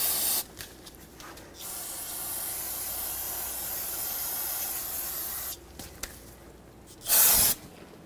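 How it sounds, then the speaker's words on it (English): Brake parts cleaner hisses from an aerosol can onto a Chevrolet Silverado 2500 HD brake, a long steady close spray with short bursts before it and another loud burst near the end. "I'm going to take some brake parts cleaner and clean it up"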